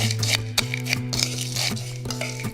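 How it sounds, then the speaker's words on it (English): Granola, brown sugar and melted butter tossed together with a spoon in a bowl, giving a run of close scraping clicks and light clatter over a steady low hum. "You just want to toss the granola and brown sugar together."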